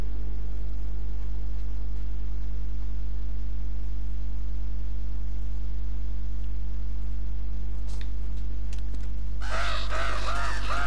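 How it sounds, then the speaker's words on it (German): A bird in the Uncharted 2 video game gives loud, harsh cawing calls near the end, preceded by a few faint chirps over a constant low electrical hum. "Das war nur ein Vogel."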